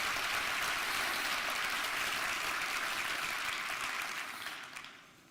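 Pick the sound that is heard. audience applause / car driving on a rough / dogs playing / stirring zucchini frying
audience applause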